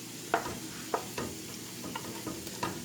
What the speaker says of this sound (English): let's give it a little stir here